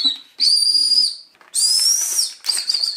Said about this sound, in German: Du musst pfeifen.